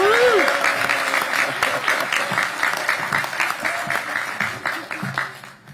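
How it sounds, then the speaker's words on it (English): Audience applause at a city inauguration ceremony honoring a newly married couple, a dense burst of clapping that starts loud and gradually thins and fades, with a voice heard briefly over it. "Let's give them a round of applause."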